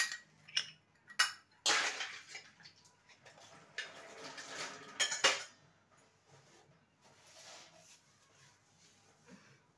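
Dishes and small bowls being handled and scrubbed at a kitchen sink, with a cluster of clinks and scraping bursts early on, then quieter rubbing and light knocks trailing off.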